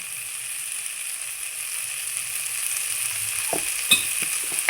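Chickpeas and potatoes fry with spices in a pan, giving a steady broad sizzle throughout, with a few sharper stirring scrapes and clinks near the end.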